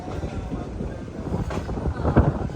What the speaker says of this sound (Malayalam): ഇവിടെ പാലക്കാട് ഭാഗത്തുനിന്ന് ഒരു ട്രെയിൻ വരുന്നുണ്ടോ?